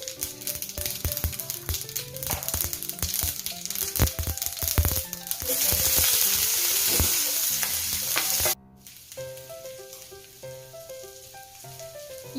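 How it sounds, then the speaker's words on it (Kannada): Mustard seeds and cumin tempering in two tablespoons of hot oil in a pan for a green gram dish, loud crackling and popping over a steady sizzle, with faint music underneath. "ಸಾಸಿವೆ, ಜೀರಿಗೆ ಹಾಕಿ ಹೆಸರು ಕಾಳಿಗೆ ಒಗ್ಗರಣೆ ಕೊಡ್ತಾ ಇದ್ದೀನಿ ಫ್ರೆಂಡ್ಸ್."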